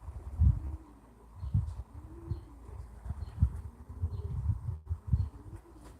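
Racing pigeons coo in soft, repeated low bursts after returning from a 120-mile race from Honiton, with a few faint chirps and wing flutters nearby and no talking.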